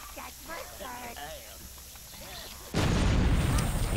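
A bomb blows up in the dark-fantasy game Overlord: a sudden loud, broad blast that follows a stretch of talking and then roars on as a sustained rumbling wash.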